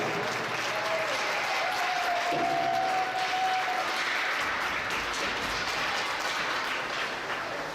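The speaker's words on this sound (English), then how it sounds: "a big round of applause for the champions in the girls 2013 division" Steady applause in an arena at a girls' youth hockey tournament in Eden Prairie, cheering the champion team of the 2013 girls division; a continuous, moderately distant clapping crowd with a brief whistle-like tone early on.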